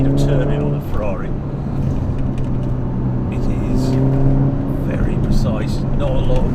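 A Ferrari Portofino M engine hums steadily at about 4,000 rpm while the car is driven, a sustained, even drone under someone talking throughout.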